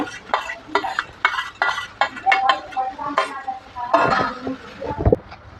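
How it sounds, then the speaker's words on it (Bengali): Hilsa fish being mixed by hand with mustard oil and pastes of chilli, mustard, cumin, garlic, ginger and onion, giving repeated wet squelching and stirring sounds with light clinks of a dish. "সর্ষের তেল দিয়ে দেব মাখিয়ে নেব ইলিশ মাছগুলো"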